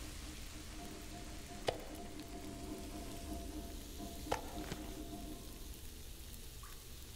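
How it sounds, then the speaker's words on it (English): Decoy meat cooking in The Long Dark, a steady quiet frying sizzle with a low crackle underneath, broken by two sharp clicks, alone without talk. "Decoy meat. There we go. Let's cook up the last one."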